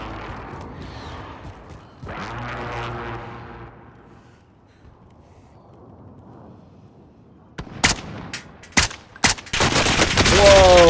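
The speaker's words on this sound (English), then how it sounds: "Popping shots." A battle royale match opens with voices talking over a low ambient bed. Then several sharp, close gunshots crack in an irregular burst, and the clip ends in a dense, loud stretch of rapid fire.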